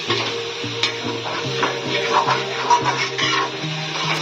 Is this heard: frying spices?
yes